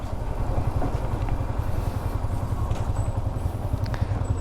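Yamaha R15M Indian-version motorcycle being ridden on a road, a steady loud low engine drone with wind noise running throughout, no talk heard.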